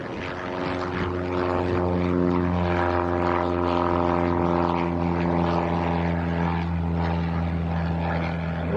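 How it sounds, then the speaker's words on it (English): A small Piper PA-28 Cherokee propeller plane taking off, its engine a loud, steady droning buzz with strong even harmonics that holds close and constant throughout, with no talk over it. "A little PA-28 Cherokee getting airborne."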